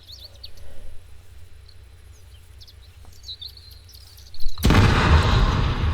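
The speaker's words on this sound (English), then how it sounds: "Explosions, explosions." A sudden loud explosion in the video game Arma 3 erupts late and rumbles on as a sustained roar, following quiet ambience with faint bird chirps.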